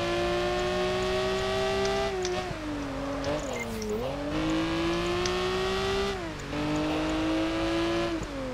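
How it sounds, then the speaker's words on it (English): Race car engine in the video game Project Gotham Racing 4, a loud continuous high-pitched whine that rises and falls with gear changes and throttle through corners, with no talk. "Just about managing to keep control of the car through those corners."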